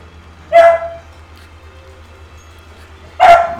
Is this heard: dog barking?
yes